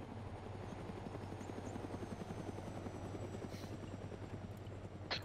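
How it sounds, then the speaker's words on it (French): A helicopter in the video game Arma 3 flies overhead, its rapid rotor thump steady and continuous at moderate distance with a constant engine drone underneath. "Ouais, y'a un hélico au-dessus de nous."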